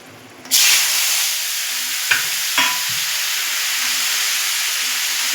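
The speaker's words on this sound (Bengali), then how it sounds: "এবার আমি এর মধ্যে টমেটোগুলো দিয়ে দেবো।" Tomatoes hit hot oil seasoned with mustard seeds and dried red chillies in a wok, bursting into a loud, sudden sizzle that settles into a steady crackling fry, with two brief scraping stirs partway through.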